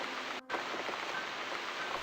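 Rain in the video game The Cat Lady, a steady soft hiss of falling rain with a brief dip in the middle, faint and continuous, with no voices.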